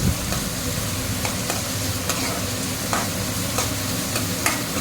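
Curry frying in a pan, stirred with regular scraping strokes over a steady close sizzle; the strokes recur about every half second to a second.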